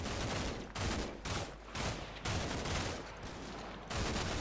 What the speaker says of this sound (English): That looks like sniper fire.